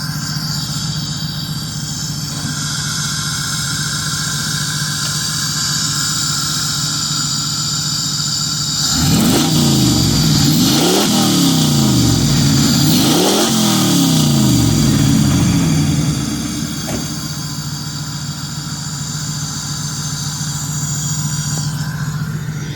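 Pontiac Firebird V8 running again after its faulty MSD ignition box was bypassed, settling into a steady, rough idle, then climbing through three sharp revs in the middle before dropping back to idle.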